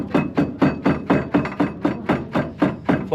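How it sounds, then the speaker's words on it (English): A heavy metal kirkit comb beats the weft down on a hand-knotted carpet in Turkey, landing about a dozen firm, rhythmic thuds in quick, even succession, close and loud with no talk. "by using a combing tool here called kirkit in Turkey, which is metal, quite heavy. She beats them down to make the knots tighter"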